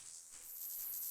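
Cricket-like firefly ambience in Minecraft: a thin, high, continuous chirring with faint pulsing, steady and fairly quiet throughout.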